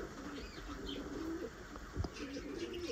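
A kokka pigeon coos in low, rolling phrases that repeat through the short stretch, close by, with faint chirps and light background noise around it.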